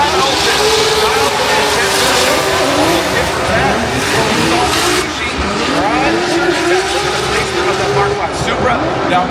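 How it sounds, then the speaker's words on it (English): A Toyota Supra drift car at a Formula Drift night round in Long Beach roars loudly through an S turn, its engine revving and its tires squealing in long slides, while a commentator talks over the noise. "Supra now coming into the S turn through that power railing"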